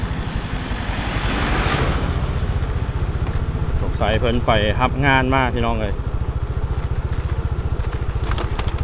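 A Kubota two-wheel walking tractor engine chugs steadily with a low, even putter throughout a rural Phu Thai village in Khammouane, Laos, while someone talks over it partway through.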